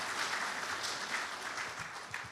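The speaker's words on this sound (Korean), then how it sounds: "박수 부탁드립니다" A hall audience at a 2003 Gwangju culture-city report meeting applauds as a professor is introduced, a faint, even patter of many hands clapping for a couple of seconds.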